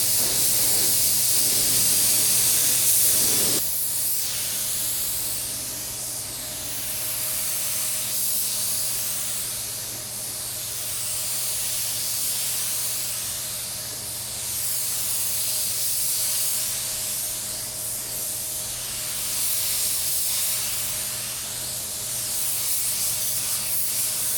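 An InoKraft Drizzle Pro paint sprayer at about 22 psi sprays a white base coat in a steady, close hiss that swells and eases rhythmically with each pass, without speech.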